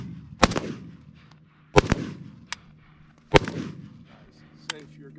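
Gunfire at an outdoor shooting range: four loud, sharp reports in pairs with brief echoing tails, plus a few fainter distant shots between them, close to the listener.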